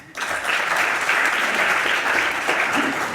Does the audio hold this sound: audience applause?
yes